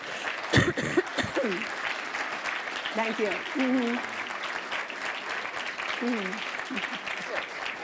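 Audience applause for someone speaker at a pro-life talk, continuous clapping through the whole stretch while a few people speak briefly over it.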